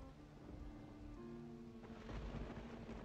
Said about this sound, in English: the thunderstorm must be right over the mansion for it to keep thundering